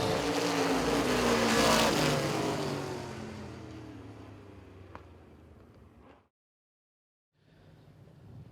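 Race cars roar past during a heat race at Baer Field Motorsports Park, a loud engine surge fading into the distance, a brief drop to silence, then engine noise rising again.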